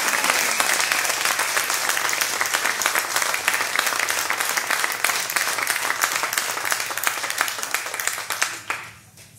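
Loud, sustained clapping fills the room as a concert crowd at a tribute show in Capinghem cheers the keyboard player, then it thins out and fades near the end.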